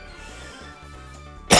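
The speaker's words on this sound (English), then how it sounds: "Apologies, I just coughed." A single loud cough from a commentator during a Mario Sluggers baseball game stream, bursting out at the end over quiet game music.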